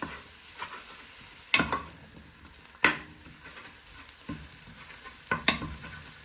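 Mince and vegetables fry in a pan with a quiet constant sizzle while a wooden spoon stirs and scrapes at irregular intervals, giving several distinct knocking, scraping strokes close by.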